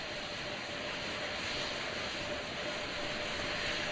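Artemis 2 rocket launching, its core stage firing under its own power: a steady, dense broadband roar that holds loud and unbroken throughout, with a faint tonal hum running underneath.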